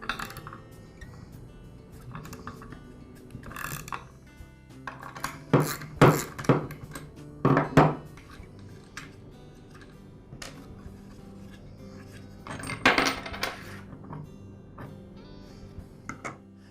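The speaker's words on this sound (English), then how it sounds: "Now I can remove the nut and the fan." A nut and fan come off a Ryobi leaf blower during a flywheel repair, giving scattered metallic clicks, clanks and rattles of parts and tools, with louder bursts in the middle and near the end.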